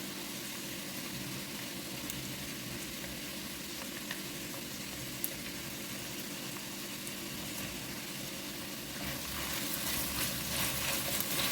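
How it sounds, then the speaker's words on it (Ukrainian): Steady sizzling and crackling of tomato paste frying in a pan, continuous and close, growing a little louder and brighter near the end. "Трошечки обсмажу пасту."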